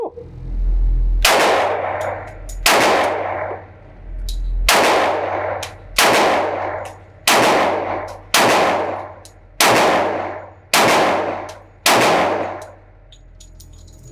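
Shots from a Glock 20 Gen 2 10mm Auto pistol at a range: about nine loud, sharp reports at a slow, fairly steady pace, each with a ringing decay, no talk.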